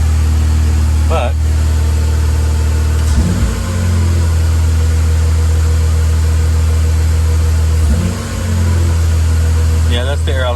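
A Honda K20 engine in an Integra Type R runs at a raised, steady idle, its low drone holding constant with a slight dip and recovery partway through. A voice speaks briefly over the engine.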